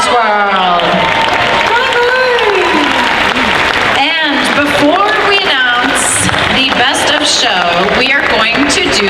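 Loud, continuous audience applause fills a packed hall at a convention's evening costume contest, steady clapping and crowd noise throughout with voices and shouts mixed in.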